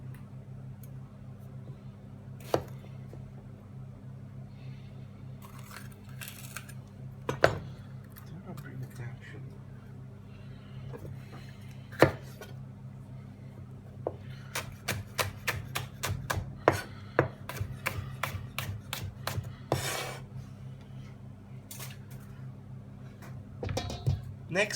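A knife slices food thinly on a cutting board while preparing Peruvian lomo saltado stir fry, giving scattered single taps and a quick run of close, crisp rhythmic cuts later on, with talk in between.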